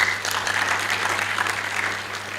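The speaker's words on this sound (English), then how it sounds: "We can give them another round of applause" Loud, sustained applause from an indoor crowd at a conference in Nairobi, dense clapping holding steady throughout with a low hum beneath.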